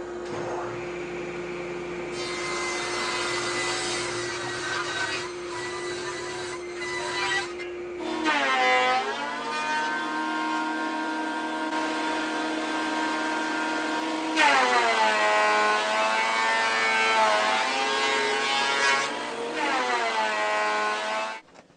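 Wood planer feeding big boards while a dust collector runs, with a steady hum and several rising and falling cutting passes, moderately loud and without speech.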